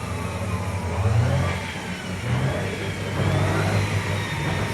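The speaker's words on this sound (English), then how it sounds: "It's spinning all four, well, yeah, all four wheels basically." An all-wheel-drive Honda CRX engine revs steadily with all four wheels spinning, a mid-pitched hum rising and falling in two swells over continuous drivetrain whine, close and moderately loud, with no talking.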